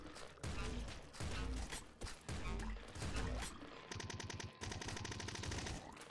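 Rapid revolver gunfire in the video game Nuclear Throne, dense bursts of loud sharp shots in quick succession with a brief pause, then a faster rattling stream of shots near the end.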